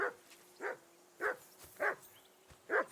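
A dog in the medieval game Kingdom Come: Deliverance II barks five times at steady intervals, each bark sharp and fairly close, with quiet ambience between.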